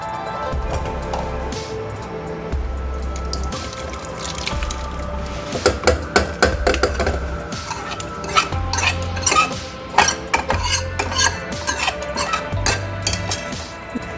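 Jaggery pieces stirred into boiled lentils in a pot while making onion sambar, a spoon clinking and scraping against the vessel in irregular bursts with faint liquid sloshing, close and moderately loud, no talking.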